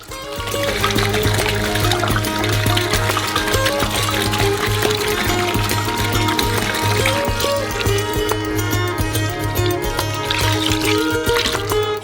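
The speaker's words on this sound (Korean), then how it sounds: "모두 잘 섞였으면 남은 물을 부어주세요." Remaining water is poured into a basin of giant homemade Skittles mixture, a continuous splashing, trickling pour under a steady low hum that lasts throughout.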